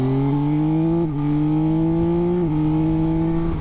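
A Yamaha Tracer 9 GT motorcycle engine in sport mode revs steadily and loudly, with two quick, seamless quick-shifter gear changes that briefly dip the tone before it pulls on again.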